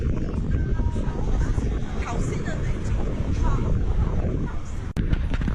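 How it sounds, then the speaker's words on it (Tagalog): Strong wind at Victoria Harbour, Hong Kong, buffets the microphone in a constant rumbling roar, with a sharp click near the end and voices faintly underneath. "Lakas ng hangin."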